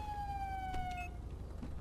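A police car siren in the video game GTA 5 wails in a long falling sweep, then cuts off abruptly partway through, leaving a steady low engine rumble under a few faint clicks.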